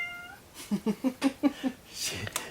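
Two cats meow eagerly for fish, about six short, close, insistent meows in quick succession, followed by a faint rustle.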